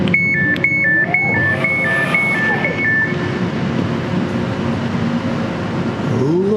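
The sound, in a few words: riding inside a modern commuter train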